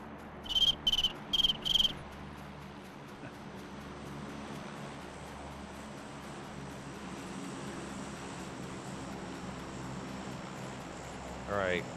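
A voice imitates a cricket with four quick, shrill chirps in two pairs near the start, then a steady low background hum continues, with a brief rising whistle near the end.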